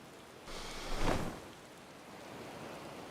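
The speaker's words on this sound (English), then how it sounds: "Maybe not out in the rain." Steady rain hiss in a Final Fantasy XIV scene, a soft broadband wash that swells briefly around the first second before settling back to an even, moderate patter with no voices.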